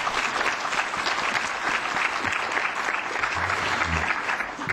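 Audience at a European Parliament conference on trade agreements applauding, a sustained dense burst of clapping at close range that stays even throughout with no voices over it.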